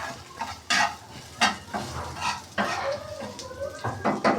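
Onions sizzle in a pan while being browned, with intermittent stirring scrapes and clinks of a utensil against the metal over a steady frying hiss, close and clear.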